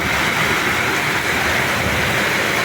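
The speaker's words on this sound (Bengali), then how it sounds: "দেখছো এত বৃষ্টি হচ্ছে আমাদের এখানে" Heavy rain pours down in a dense, unbroken hiss that stays loud and steady throughout.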